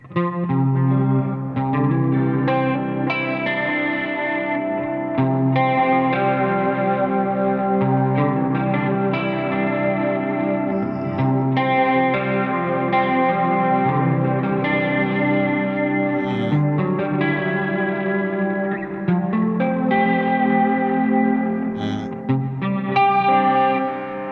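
Heavily processed electric guitar through a Nux MG-30 plays continuously, thick with distortion, chorus shimmer and echo tails, loud and dense throughout.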